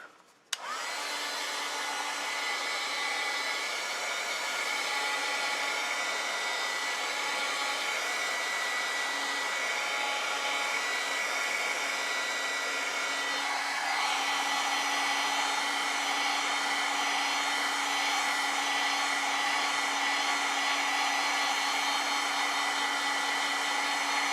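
A hair dryer blows steadily on wet acrylic paint for over twenty seconds, clicking on at the start with a constant loud whir and a slight shift in tone midway; no voices.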